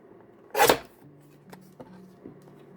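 Paper for card making being trimmed, one sharp rustling swipe of the cutter up close, followed by a few faint clicks and light taps in a quiet room.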